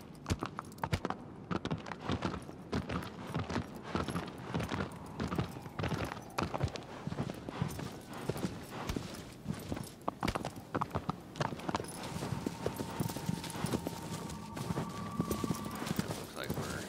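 A horse gallops in Shadow of the Colossus, its hoofbeats a rapid, continuous clip-clop. Someone speaks over them now and then.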